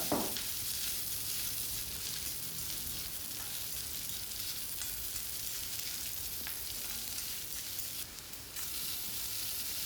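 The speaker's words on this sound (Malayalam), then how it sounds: "ഇതാ വെളിച്ചെണ്ണയിൽ അത് ഈ ഒരു ചട്ടിയിൽ ഉണ്ടാക്കുന്നത് അപ്പം ഇനി ഒക്കെ വഴറ്റിയെടുക്കാം" Tomatoes sautéing in coconut oil in a pan give a steady, close, even sizzle that runs throughout with no talking.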